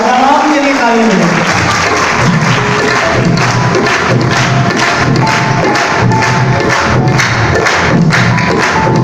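A church congregation applauds with loud, dense, sustained clapping that fills the room from start to finish, with some shouts mixed in.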